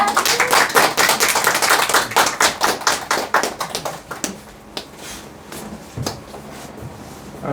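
A lecture audience of parents in Gimpo applauds to welcome a math education lecturer, with a burst of close, sharp clapping in the first half that thins to a few scattered claps.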